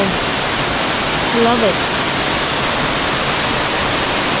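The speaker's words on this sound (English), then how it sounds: "You can see the waterfall there. Seven Sisters Waterfalls, guys." The Seven Sisters Waterfalls in St. Margaret, Grenada, roar in a loud, steady wash of falling water close by, and a voice speaks briefly over it.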